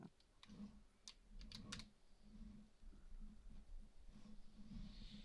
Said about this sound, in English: Who's typing?